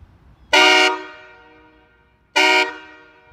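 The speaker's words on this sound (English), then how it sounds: "This is the Outlaw 228 train horn kit." Two loud blasts from an Outlaw 228 train horn kit mounted on a car, a smaller aftermarket air horn setup; a long blast of roughly half a second with a fading echo, then a second blast about two seconds later.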